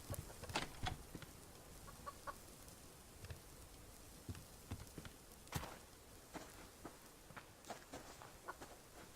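Chickens in the survival video game Subsistence cluck in short, scattered bursts, some sharp and close, over a quiet backdrop with light footstep-like taps and no talk.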